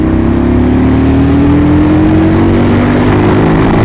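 Aprilia Tuono Gen 2 motorcycle pulling away under acceleration, a loud close engine note climbing steadily in pitch with continuous rumble and no talk over it.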